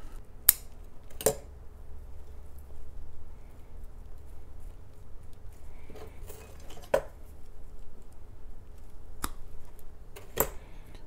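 Bonsai shears snip through the roots of a zelkova tree in a series of sharp, close clicks spaced a second or more apart, with quiet rustling between the cuts.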